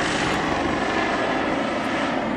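Eurocopter EC 135 T2 helicopter on skids at an air show in Čáslav, a steady loud engine and rotor roar throughout with no talk.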